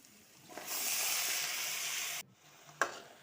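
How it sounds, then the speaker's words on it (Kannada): Raw jackfruit pieces fry in a pan with a strong, close sizzle that swells and holds for about two seconds, then drops as they are stirred, ending with a sharp scrape or knock; no talking. "ಹಲಸಿನ ಬಡ್ಕೆಲ್ಲ ಹಾಕ್ಕೊಂಡ್ಮೇಲೆ ಚೆನ್ನಾಗಿ ಫ್ರೈ ಅಂದರೆ ಮೇಲೆ ಕೆಳಗೆಲ್ಲ ಮಾಡ್ಕೊಳ್ತಾ ಇದ್ದೀನಿ"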